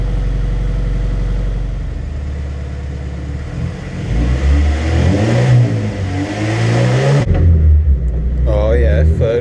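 A Honda EK9 race car with a B18C engine, running on a ramp, revs loudly and climbs through successive gears, the engine note rising, dropping at each shift, then climbing again, close up.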